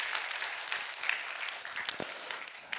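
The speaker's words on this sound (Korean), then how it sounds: "다시 한번 여러분 박수 한번 해주셔요." A church congregation applauds together, steady dense clapping filling the room with a few sharper claps standing out, continuing without a break.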